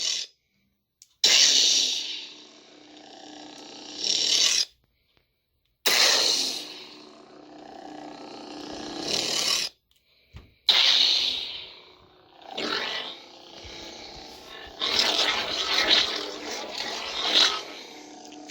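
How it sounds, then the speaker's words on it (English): A Korbanth Qui Gold lightsaber with a CFX neopixel sound board ignites slowly several times, each one a loud, guttural roaring hum that swells and cuts off, separated by short silences. "I love that slow ignition."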